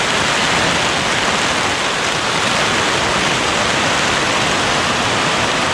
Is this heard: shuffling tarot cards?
no